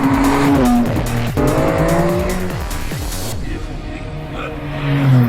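A Ferrari 575 Maranello drives hard with its tires squealing in long, wavering shrieks over the loud engine drone, the squeal easing off and then returning toward the end.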